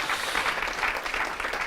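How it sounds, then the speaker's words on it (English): Steady applause from a crowd, a dense wash of clapping hands that holds at an even level throughout. "Round of applause for Andy."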